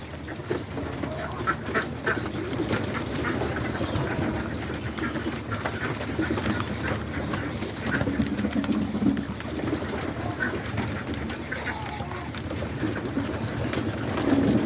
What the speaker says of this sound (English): There they are, all the pigeons are all ready to eat as well.